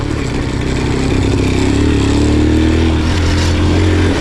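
Alfa moped runs after an engine seizure repair, its small motor putting out a loud, steady buzzing putter close by that rises slightly in pitch toward the middle.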